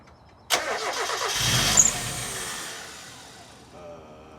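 A 1995 Mazda Miata engine cranks and catches just after an intake swap, a sudden loud burst followed by a rough, breathy run that fades steadily, with a faint voice near the end.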